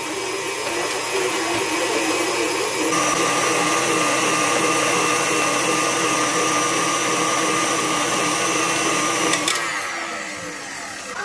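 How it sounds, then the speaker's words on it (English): KitchenAid Professional series stand mixer beating cheesecake batter, a loud steady motor whir with a constant pitch that runs nearly the whole time and eases off just before the end. "I love the KitchenAid stand mixer because it takes the work out of this"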